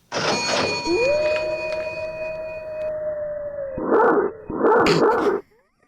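A dog barks, then lets out a long sustained howl and finishes with two more loud, close barks, all alone with no other sounds.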